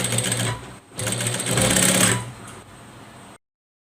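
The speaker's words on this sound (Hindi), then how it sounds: "दूसरी साइड पर भी आपने इसकी स्टिचिंग कर लेनी है।" A sewing machine stitches a seam on a ladies' trouser, running close and loud with a fast mechanical rattle in two bursts separated by a short pause, then slowing before it stops.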